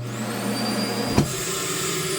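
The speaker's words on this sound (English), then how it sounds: "We also have the vac that is built in, so you can kind of flip this up." A built-in vacuum in a Jayco Pinnacle 38FBRK RV runs with a steady, whooshing motor drone, broken by one short knock near the middle.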